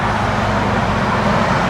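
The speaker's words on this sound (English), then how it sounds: "Car sounds amazing." A 1967 Pontiac Firebird engine runs steadily in a loud, broad, even rumble for a moment, heard close and unchanging.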